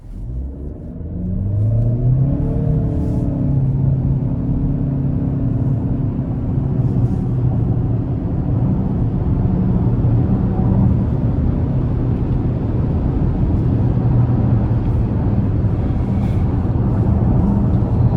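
A 2025 Chevy Equinox RS with a CVT pulls away under moderate throttle. Its engine drone climbs and then holds at a steady, loud level with road rumble underneath, with no stepped gear changes, heard from inside the cabin and with no talk.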